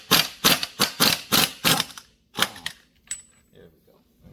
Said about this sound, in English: I'll just give it a quick tap with the gun